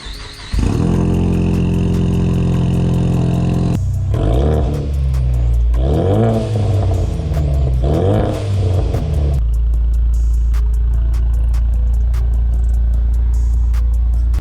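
A Genesis G70 with a 2.0-liter turbo engine cold-starts nearby: a starter whir and catch, a loud flare of revs that rises and falls a few times, then settles into a steady high idle.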